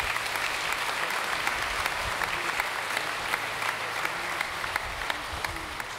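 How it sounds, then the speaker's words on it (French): A church congregation at a pilgrimage Mass applauds the sisters, steady dense clapping from a large gathering that carries on evenly throughout at a strong, close level. "Je vous demande de les applaudir aussi"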